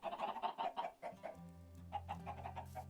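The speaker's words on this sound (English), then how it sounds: "And a lot of loud chickens." Chickens cluck loudly and rapidly in a busy burst of repeated calls, pausing briefly before more clucking resumes, with no talk over them.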